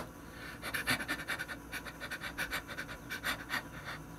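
A person imitates tachypnea, breathing in quick, shallow, panting puffs in a steady rapid rhythm, close and moderately loud, with no talk.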